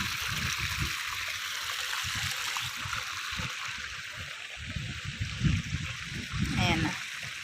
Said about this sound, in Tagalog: Mabilis lang na tubigan yung palayan.